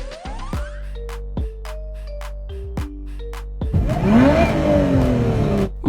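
A car engine revs repeatedly in short bursts, each rise and drop of pitch clearly audible, then climbs into a louder sustained rev with background commotion near the end.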